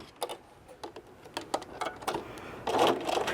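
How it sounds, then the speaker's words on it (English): Sewing machine back stitching fabric on a zipper pencil case, a quiet run of quick ticking needle strokes in short irregular bursts, ending in a slightly louder stretch. "And I'm going to back stitch a little bit."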